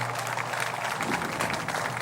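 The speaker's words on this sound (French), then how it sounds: "Acclamation plus nourrie pour le Père." A concert audience in Togo gives a steady, loud wash of applause and cheering to welcome a priest onto the podium, dense and continuous with no pauses.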